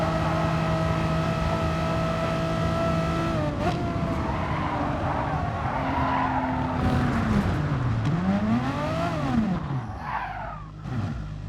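A race car in a racing video game at Sardegna loses grip and spins off into gravel, its engine droning steadily before rising and falling in pitch as the tires skid and the car slides, then fades.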